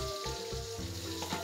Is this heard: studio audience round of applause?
no